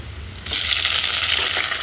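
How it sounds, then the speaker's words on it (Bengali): Chicken frying in a pan for chicken kosa, a loud steady sizzle that starts abruptly and keeps going, close by with no talking. "তো দেখো এখানে আমি চিকেন রান্না করছি।"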